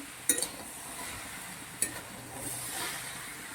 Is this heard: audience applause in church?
no